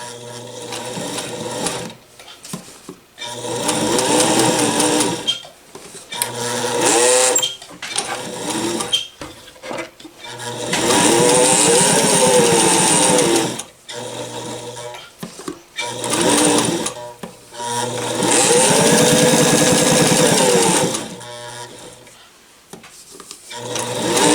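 A vintage Singer Fashion Mate 257 sewing machine runs a zigzag stitch in several loud bursts of rapid whirring, separated by short pauses with light handling clicks and rustles.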